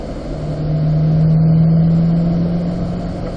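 A Corvette engine pulls hard on a Las Vegas track, holding a steady, loud mid-range drone that swells and then eases. It sounds close and continuous, with no voices.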